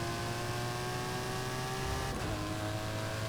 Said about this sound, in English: It's got that big old V12 in it